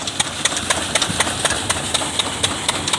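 A tractor engine idles with a steady, rhythmic ticking throb while groundnuts are loaded onto it in a field, the chugging pulses even and moderately close.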